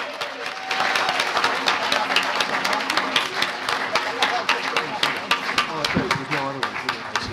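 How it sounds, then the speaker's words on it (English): A round of applause from an audience at a business challenge event, with dense, steady clapping from a crowd that starts after a brief moment and carries on at an even level through the rest of the clip. "a round of applause."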